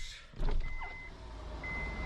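Power windows on a parked car whir as they lower, a close electric motor hum that starts abruptly and carries on through the rest of the clip, with no talking.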